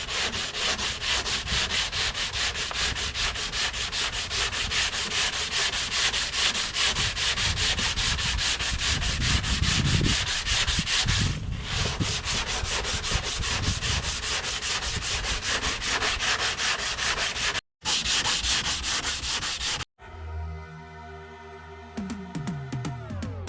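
Sanding on body filler on an 81 Corvette hood: continuous close scratchy rubbing strokes for about twenty seconds, briefly interrupted near the end, followed by a short, different tonal sound.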